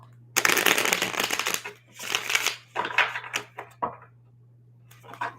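Tarot cards being shuffled in bursts of dense papery riffling and slapping, several rapid rounds with short pauses between, close and fairly loud over a steady low hum.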